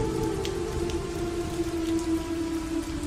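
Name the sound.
rain falling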